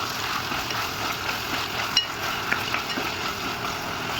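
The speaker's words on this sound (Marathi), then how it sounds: "साईडलाच मी पॅनमध्ये ऑइल टाकलं आणि आता त्यात आपण जे वाटण असतं ते परतून घेणार आहोत।" Ground masala paste with a bay leaf sautéing in hot oil in a pan for dhaba-style dum aloo, a continuous close sizzle with faint stirring scrapes and small clinks.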